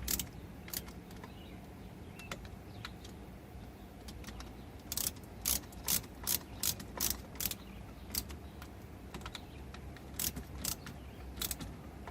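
Bolts being tightened in a star pattern on a Husqvarna trimmer engine, with repeated sharp ratchet clicks and metallic tool sounds in irregular bursts, close but fairly quiet.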